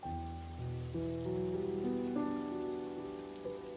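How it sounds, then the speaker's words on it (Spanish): Rain falls steadily as a soft, continuous patter beneath sustained, gently shifting musical tones. "Y vas a ir empezando a escuchar el sonido de la lluvia."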